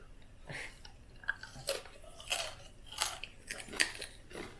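Someone bites into and chews crispy pork belly seasoned with pepper, ginger and lime, giving several close, sharp crunchy bites at an irregular pace with soft mouth sounds between them.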